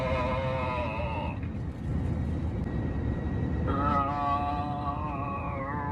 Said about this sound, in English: Strange, guttural noises carried on for seemingly ages